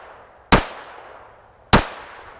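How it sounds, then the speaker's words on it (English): Two sharp gunshots from a Taurus PT-22 Poly .22 pocket pistol, spaced about a second apart, each a loud close crack with a short decaying tail, no talking. "Let's see if we can get some headshots with this little pocket pistol."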